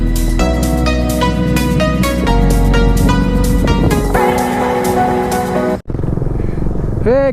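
Nine motorcycles and a car drone and rev close by on a North Sikkim ride, a layered, steady roar of several machines that drops out briefly before a different engine tone takes over.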